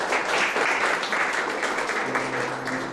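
Dense, steady applause from an audience at a Liepāja annual culture awards ceremony, honoring the laureates; continuous clapping fills the hall at even loudness throughout.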